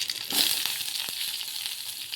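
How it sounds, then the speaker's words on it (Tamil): Mustard seeds and curry leaves crackle and splutter in hot oil at the start of a potato stir-fry, a loud, busy sizzle with a sharp burst of popping early on. "கடுகு நல்லா பொரிஞ்சதும் கருவேப்பிலை கொஞ்சம் போட்டுக்கோங்க. கருவேப்பிலை நல்லா பொரியட்டும்"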